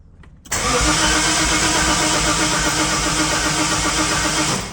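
A Datsun 280ZX with Megasquirt engine management cranks for a first start attempt, its starter churning loudly and steadily right up close after a brief quiet moment.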